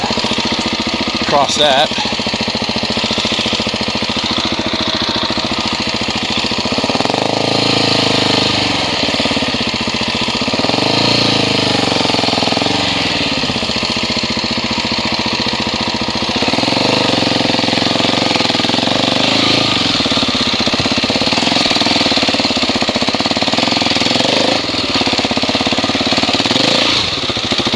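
Engine of a 2017 Husqvarna 701 Enduro motorcycle revving at low revs while climbing off-road, loud and close with surging throttle bursts throughout, under a rider's occasional talk.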